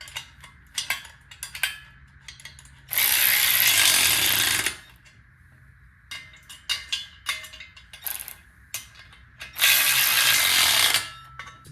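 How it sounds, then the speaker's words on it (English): A ratchet tightens bolts on a Summit Racing engine stand, heard as quick bursts of clicking with two long, loud stretches of rapid continuous ratcheting between shorter clicks, close by with no talking. "Tighten her up, Chuck."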